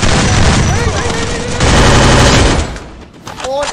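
Dense, loud bursts of automatic gunfire crackle almost continuously in a battle royale video game, with rapid overlapping shots before a brief lull and a final volley.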